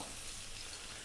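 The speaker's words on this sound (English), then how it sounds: "I've got a generous amount of olive oil in there. Heat is on. We're going to drop in our onion" Chopped onion hits a pan of hot olive oil and sizzles in a steady, faint, hissing crackle with no voices.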